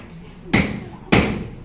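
A wooden gavel knocked twice to adjourn a court session, two sharp, close, evenly spaced thuds with brief ringing decay.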